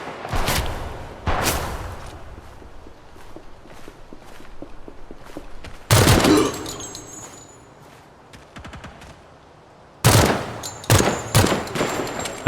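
Burst-fire rifle in the video game Project Silverfish: several sharp, loud clusters of rapid shots separated by quieter stretches, with footsteps and light handling noise between bursts.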